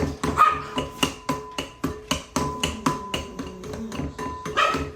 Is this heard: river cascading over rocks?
no